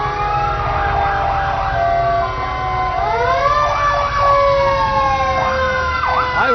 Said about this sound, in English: the sirens and the horns are going